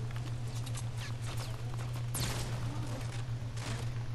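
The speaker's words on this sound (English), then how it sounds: "there's people shooting at me" Gunfire from players shooting in Fortnite Battle Royale, a scattered run of distant sharp shots over a constant low hum, one louder crack in the middle.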